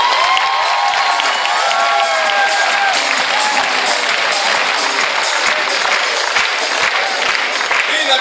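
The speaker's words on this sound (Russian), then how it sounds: "Давайте под ваши бурные аплодисменты." A large audience at a university KVN comedy championship breaks into loud, sustained applause mixed with cheering and shouts, a dense roar that fills the space from start to finish.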